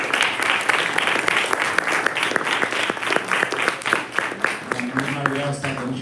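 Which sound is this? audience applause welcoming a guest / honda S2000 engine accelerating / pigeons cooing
audience applause welcoming a guest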